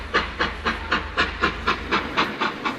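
A sleeper train leaving for Chiang Mai gives a rhythmic clickety-clack over the rails, about ten evenly spaced beats under a constant low rumble and hiss.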